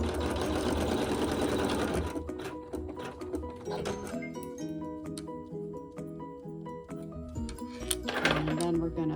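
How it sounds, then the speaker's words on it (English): Sewing machine stitching a quilt-block seam with neutral thread, a dense close whirring burst followed by quicker rhythmic needle clatter with brief pauses, rising again at the end. "sew the seam with the neutral thread"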